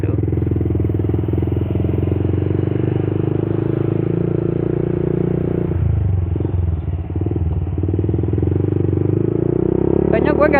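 A Yamaha Vixion motorcycle with a loud aftermarket exhaust idles and revs nearby, a continuous deep throbbing drone with a brief dip in the middle.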